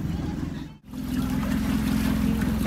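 An island-hopping boat's engine drones steadily up close in the Philippines, a rough continuous rumble that drops out for an instant before resuming.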